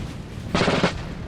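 A short burst of massed musket volley fire in a Napoleonic Total War battle game, a dense crackling rattle lasting under half a second over steady background noise.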